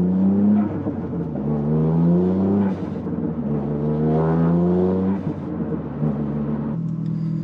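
A Toyota GR Yaris running a Motec ECU drives on an ordinary road, its engine droning steadily and rising and falling in pitch through gear changes, close and continuous with no talk.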